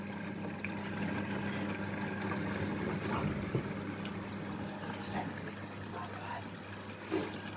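A Hotpoint Active Care washing machine fills with water during its rinse cycle, a steady rushing and trickling flow over a low mechanical hum that stays at an even level throughout.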